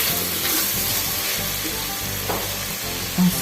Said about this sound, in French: je vais laisser mes oignons suer